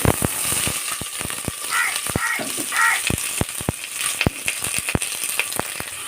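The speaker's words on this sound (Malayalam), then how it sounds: "ഇനി ഞാൻ സവോളയാണ് കേട്ടോ ഇട്ട് കൊടുക്കുന്നത് കൂടെ ഒരു പച്ചമുളകും കൂടി ഇട്ട് കൊടുക്കുന്നു" Onions and green chilli frying in coconut oil inside a pressure cooker, with fenugreek, while beef roast is being made. Sharp metallic clinks of a spoon against the pot repeat unevenly over a constant close sizzle.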